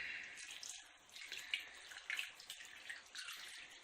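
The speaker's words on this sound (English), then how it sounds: "you get your stock and you want to pour that over the lot." Warm stock poured over chicken pieces in a slow cooker crock pot gives a faint, steady splashing trickle for about four seconds, with small surges along the way.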